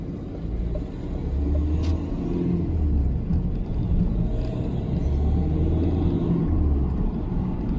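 A car pulling away in first gear from a road junction, its engine rumbling steadily close up and rising slightly as it accelerates, alone with no talk.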